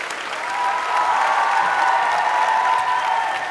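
A studio audience at the Vietnamese rap competition show Rap Việt gives sustained applause with crowd noise after a stage performance, a broad, even roar of clapping that swells in and holds steady throughout.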